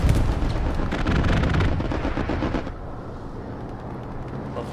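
A grenade blast in the Hell Let Loose video game destroys an airhead spawn point. A loud, dense explosive rumble runs for about two and a half seconds, then drops to a lower lingering battlefield din.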